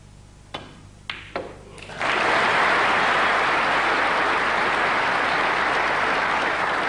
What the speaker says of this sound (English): Round of applause for Stephen, who's had to sit in his chair for 2 frames